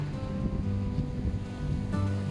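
Steady rush of sea waves and wind at Al Mughsail beach, a continuous broad roar with gusty microphone buffeting, loud and close, no talking.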